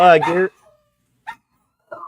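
Dogs bark somewhere nearby: a loud, howling bark comes first, then short faint yips after a pause. The sounds come in separate bursts with silence between them.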